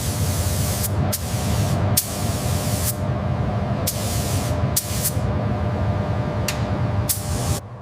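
Primer is sprayed onto Boss Hoss BHC-9 V8 motorcycle parts in short hissing bursts, about eight separate passes with brief pauses, close and loud over a low background hum.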